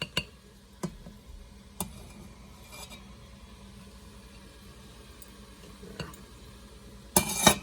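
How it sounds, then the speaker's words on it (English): Cooked quinoa is scooped up and put onto a plate: a few faint, close spoon clinks and soft scrapes come at spaced intervals, then a brief louder clatter at the end, with no talk. "So then I'm going to scoop up some, put it on my plate."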